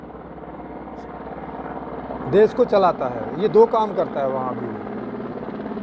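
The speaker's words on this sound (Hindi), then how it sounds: "एक सेकंड, ये हेलीकॉप्टर जा रहा है जरा।" A helicopter flies overhead, giving a steady low rotor drone that runs throughout the clip while someone talks over it.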